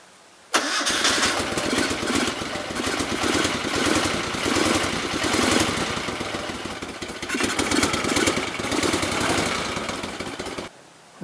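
A 1973 Moto Guzzi motorcycle engine, cold and running without a choke, bursts into a loud, rapid, pulsing rumble that carries on steadily and close for about ten seconds before stopping abruptly.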